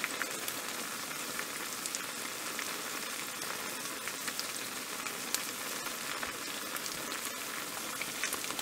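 Kannur-style panchaara neyyappam made from leftover rice deep-frying in oil, a steady, close, even sizzle and bubbling that runs unbroken throughout with no voices.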